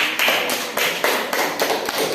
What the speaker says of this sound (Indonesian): Kasih tepuk tangan untuk Fitri